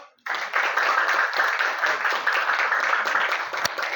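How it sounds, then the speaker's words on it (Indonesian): Classroom applause for a student named Aldo: a sustained wash of dense clapping from a group of listeners, steady and fairly soft throughout, ending with one sharper clap. "Tepuk tangan buat Aldo."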